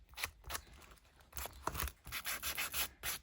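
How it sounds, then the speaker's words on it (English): Sandpaper rubbing over paper edges of a junk journal page, a series of short scratchy strokes that speed into a steady rhythmic run of close, bright rasps, with no talking. "give it a bit of a sand"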